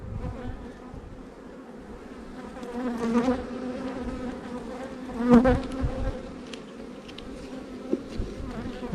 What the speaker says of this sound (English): See bees with pollen in their sacs and doing the waggle dance